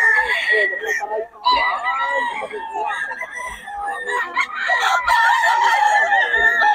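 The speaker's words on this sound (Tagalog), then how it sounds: "Ang ganda ng mga manok." A crowd of chickens and roosters at a poultry market in Bocaue cluck and crow loudly and continuously, with shrill overlapping calls close by.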